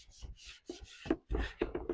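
A shop rag soaked in dish soap and water wiped over a piece of thrift-store wooden furniture, giving short scrubbing rubs in uneven bursts, faint and close, with no one talking.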